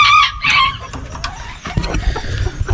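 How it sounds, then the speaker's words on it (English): A rooster crows loudly and close at the start, then clucking chickens and farmyard bustle follow on a homestead during chores, with a car faintly in the background. "that chicken right there is a stud"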